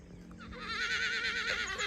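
A horse lets out a loud, close, quavering neigh lasting over a second, rising after a brief quiet start with faint background noise.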